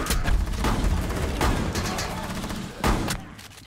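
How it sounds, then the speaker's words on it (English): Shotgun blasts in Rainbow Six Siege boom in quick succession, a cluster of loud close shots at the start and another sharp blast near the end, with muffled game noise between. "Headshot with a shotgun,"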